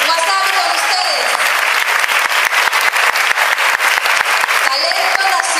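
An audience claps loudly at a Japanese karaoke contest of J-pop singers, a dense, sustained burst of applause with sharp individual claps standing out, swelling and holding for several seconds with no talking.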